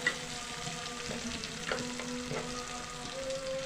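Onions frying in a pan while being stirred, a steady soft sizzle with occasional scraping strokes, close and continuous with no talking.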